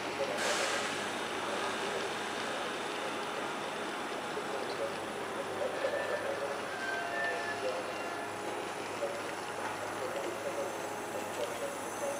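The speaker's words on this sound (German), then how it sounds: "Vorsicht an den Türen und bei der Abfahrt des Zuges" A train of N-Wagen coaches hauled by class 147 electric locomotive 147 009 rumbles steadily as it departs Stuttgart Hauptbahnhof, a continuous mechanical drone with occasional faint squeals and hisses, holding an even level throughout.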